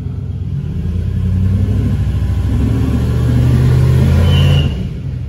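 Turbocharged LS-swapped engine in a caravan revving hard against a transbrake: a loud, close, steady low roar that builds and holds for several seconds before cutting off abruptly near the end.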